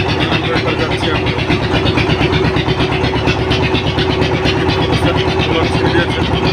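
A trawler boat's engine drones steadily and loudly as the boat sets off across a river, a constant mechanical rumble throughout with voices under it.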